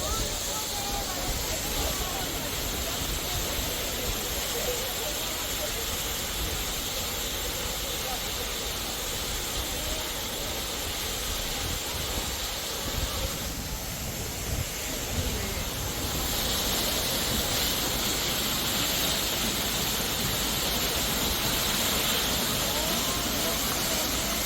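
A waterfall on Jeju Island sends out a dense, unbroken roar that stays loud and steady throughout, with people's voices faintly mixed into the rush.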